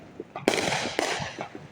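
Fourth of July Independence Day fireworks in America burst in the distance on a night outdoors, two loud cracking booms about half a second apart amid faint popping, with no talk.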